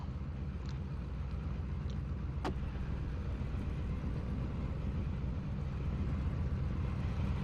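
A 1987 NASCAR Legends race car engine drones steadily in the iRacing sim at Indianapolis, a continuous low rumble with one brief sharp click partway through.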